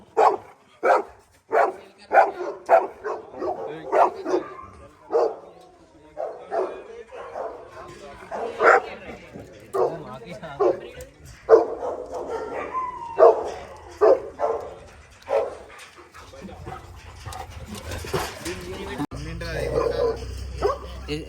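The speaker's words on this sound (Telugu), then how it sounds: "ये सेंट बर्नार्ड लैब." Saint Bernard and Labrador dogs bark at a kennel in a long run of loud, close, repeated barks, with bursts of speech and other kennel noise underneath and a rougher rumble near the end.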